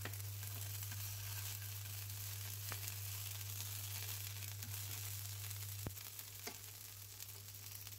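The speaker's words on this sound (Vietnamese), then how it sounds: "rồi để phần ngò gí vô để phi cho cái ngò gí này thơm á" Sawtooth coriander sizzles in cooking oil in a pan as the base for vegetarian mushroom meatballs: a quiet, even, continuous frying hiss with a couple of small clicks and no talking.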